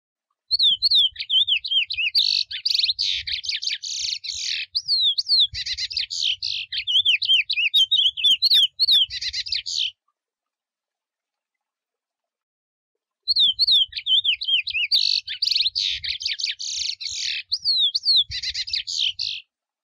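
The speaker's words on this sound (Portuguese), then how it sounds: "Seu canto é melodioso e um dos mais bonitos do Brasil." A melodious Brazilian songbird sings long, varied phrases of rapid whistles and trills, clear and close, in two extended bursts separated by a few seconds of silence.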